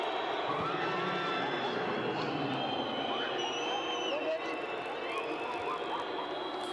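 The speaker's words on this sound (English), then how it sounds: "this arena just erupted" Basketball arena crowd roaring and cheering after a three-pointer at a Georgia versus Iceland FIBA World Cup qualifier, a sustained dense wall of voices with whistles and shouts rising from it.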